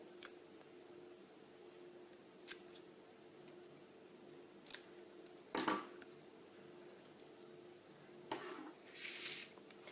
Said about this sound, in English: With my scissors, I'm going to trim the end of that into a banner.